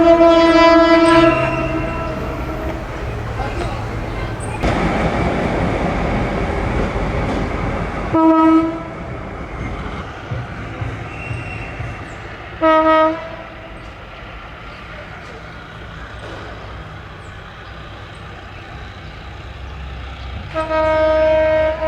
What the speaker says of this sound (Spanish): La locomotora está realizando la maniobra correspondiente para armar el tren número 2006 para regresar hacia Victoria.